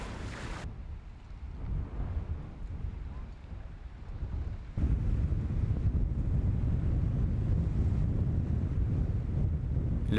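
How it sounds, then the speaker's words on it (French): Steady wind roaring over open water, with rushing gusts and low rumble that grows louder and denser partway through; no voices. "Le vent, maître absolu des océans, élément essentiel à la voile"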